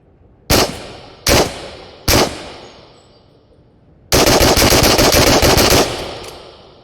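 Shots from a SIG M17 pistol, a P320 variant, in the Into the Radius VR game: three loud, evenly spaced single shots with short decays, then a sustained rapid burst of fire lasting almost two seconds.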